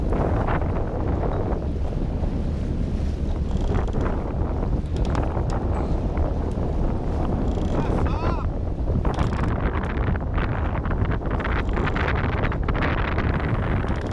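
Strong wind buffets the microphone aboard a sailboat under sail with a broken engine in an unfamiliar channel, a steady loud roar and rumble with water noise beneath and faint voices.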